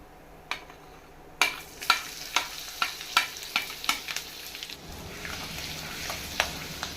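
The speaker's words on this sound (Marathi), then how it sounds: "आलं लसूण पेस्ट थोडी परतून घेऊया" Ginger-garlic paste sautéing in oil with mustard seeds and cumin in a kadhai, a sizzling bed punctuated by a rapid series of sharp pops and crackles, close up.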